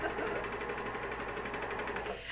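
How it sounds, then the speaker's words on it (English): Coverstitch sewing machine stitching underwear fabric, a fast steady mechanical chatter of needle strokes close by, running for a couple of seconds before stopping abruptly. "we're just going to cover stitch this again"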